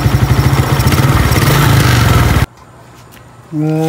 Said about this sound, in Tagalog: pero yung andar niya medyo palyado pa rin siya.